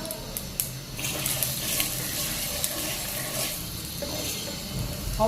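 Cumin seeds frying in hot oil for a drumstick gravy curry, a steady, continuous crackling sizzle with small pops, fairly close and without voices.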